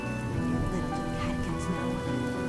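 Rain falls steadily and softly throughout, a constant hiss mixed under a layered backdrop of music and other sound.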